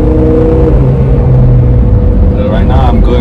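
A 2009 Honda CR-V engine revs up past 3,000 to 4,000 RPM, a steady loud drone with a rising tone near the end, heard from close by.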